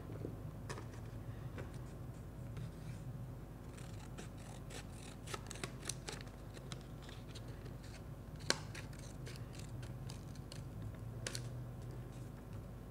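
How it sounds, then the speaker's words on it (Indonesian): Scissors make a series of quick, crisp snips through a folded sheet of origami paper, close and quiet, with irregular clicks and small rustles between the cuts. "Lalu kita gunting atasnya."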